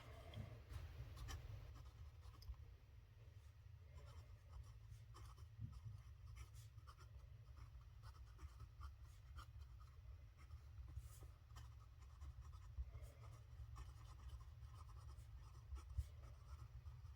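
A Lamy Al-Star fountain pen with a fine nib scratches across Amazon Basics paper, making a quiet, continuous, close-up writing sound with small rhythmic strokes and no talking.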